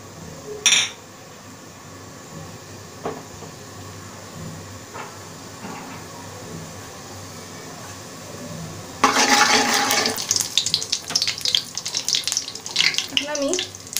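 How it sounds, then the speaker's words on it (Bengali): Half a spoon of cumin seeds drop into hot oil for tempering, setting off a sudden burst of loud sizzling and crackling partway through, preceded by quiet kitchen clatter and a few knocks. "এখন আমি জিরার ফোড়ন দিব হাফ চামচ"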